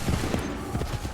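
Musket volley fired by a line of soldiers in the video game Assassin's Creed 3, a dense crackling burst of overlapping shots, loud and close over about a second.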